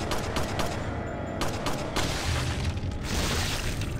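Pistol gunfire in Resident Evil 4, a dense run of sharp shots and impacts over game noise and rumble, close and loud, with no talking.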